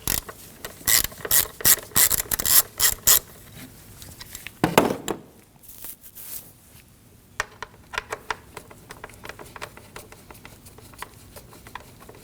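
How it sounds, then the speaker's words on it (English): An 8mm ratchet works the bolt securing the rear of the intake to the valve cover on a 2015-2024 Ford Edge, giving a burst of close, rapid clicking pawl strokes, then a pause and softer, scattered ratcheting and tool handling. "We can remove the bolt holding the back portion of our intake onto the valve cover using an 8mm."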